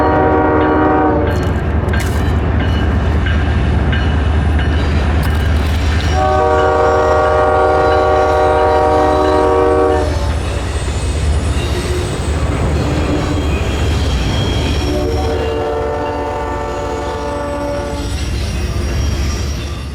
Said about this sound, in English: It's really nice to see trains heading along the Hudson River here